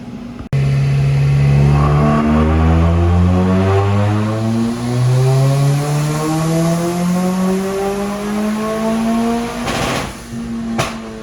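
A tuned turbocharged car making about 281 horsepower at 21 pounds of boost, revving hard on a dyno after a 40,000-mile retune. The loud, steady engine climbs in pitch through the pull and eases off near the end, with no one talking.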